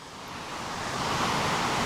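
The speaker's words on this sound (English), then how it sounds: "It's a spectacular waterfall." The Runchet River waterfall in Gorkha, Nepal pours steadily, a dense broadband rush of falling water that swells slightly louder over a couple of seconds, with no voices heard.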